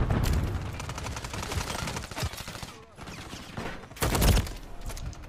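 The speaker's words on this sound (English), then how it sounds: "Can you shoot my body? Hey, double tap, you know?" Rapid bursts of gunfire in Call of Duty during a Michael Myers haunting event, dense automatic shots in close, loud volleys with a short lull before another heavy burst.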